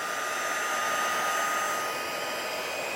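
A heat tool set to level 2 runs steadily for heat setting embossing powder on a stamped card, a constant loud airy whoosh with no pauses and no talking.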